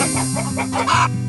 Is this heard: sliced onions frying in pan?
no